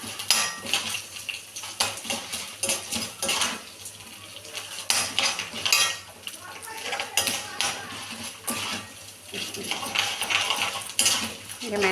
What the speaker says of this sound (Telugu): వెల్లుల్లిపాయ అన్ని పోపులన్నీ బాగా వేగుతున్నాయండి.